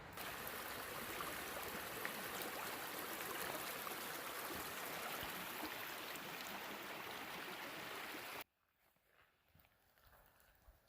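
A trailside creek on the Appalachian Trail between Springer Mountain and Gooch Gap runs with a steady, close wash of flowing water for about eight seconds before cutting off to quiet ambience.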